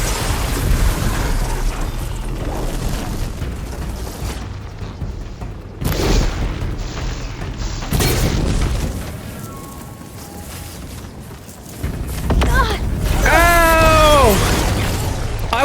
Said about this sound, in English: I was still caught in the explosion.